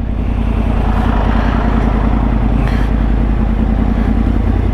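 2013 Yamaha R1 sport motorcycle engine running at a steady, loud drone, heard up close with continuous wind and road rumble and no gaps.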